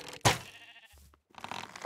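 A sheep in Minecraft gives a single loud bleat, followed by quieter game sounds and a short silence.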